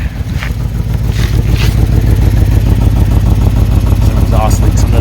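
Abandoned limousine with exhaust leaks from scraping, engine running steadily and loudly at idle out on the salt flats, a continuous close rumble throughout.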